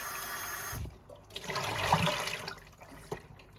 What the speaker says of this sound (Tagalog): Hugasan ko yung mga vegetable.